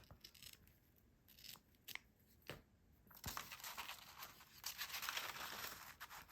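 Scissors cut a sheet of paper in half for a memory-keeping letter craft, giving a few quiet snips followed by a longer, denser run of crisp shearing and crinkling close by, with no talking.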